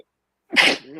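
A single sharp, close human sneeze bursts out after half a second of silence, then trails off into a brief breathy tail.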